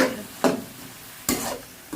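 Chicken offal in a pan gets stir-fried in short scraping bursts over a steady sizzle, close and moderately loud, with no talking.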